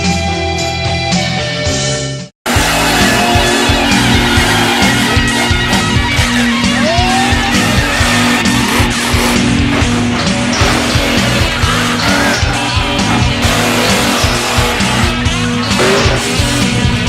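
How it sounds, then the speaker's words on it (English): Monster trucks drag racing side by side at Harrington Raceway on the Delaware State Fairgrounds, engines roaring loud and continuous after a brief cut, with revving swells and a distant crowd underneath. "Coming up, some good old-fashioned, side-by-side monster drags."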